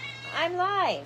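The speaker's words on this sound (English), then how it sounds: "And here's my cat to say hello to you all." An elderly pet cat, about 14 or 15 years old, lets out a single drawn-out, rising-and-falling meow close by indoors, with someone speaking briefly.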